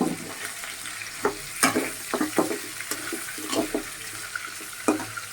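Chicken meat frying in a pan, giving a soft crackling sizzle with frequent clacks and scrapes from stirring, close by and fairly quiet.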